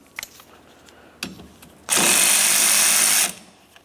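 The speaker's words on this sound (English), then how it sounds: "Remove the plastic cover and then use a 14mm socket to remove the nut." A power tool whirs steadily for about a second and a half, spinning a 14mm socket to remove the wiper arm nut on a Pontiac Vibe, after a few light clicks and knocks, with no talk.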